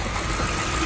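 A car engine running with an abnormal noise, a steady broadband mechanical roar, loud and close, with no talking.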